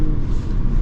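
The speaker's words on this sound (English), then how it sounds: "The exhaust does little burbles out of the back" Armored Cadillac Escalade V with a 700-horsepower supercharged V8 gives a short, loud, deep exhaust burble, a close low rumble with slight pulsing and no voices.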